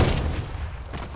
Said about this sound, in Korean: 어떤 새끼가 나 수류탄 맞췄어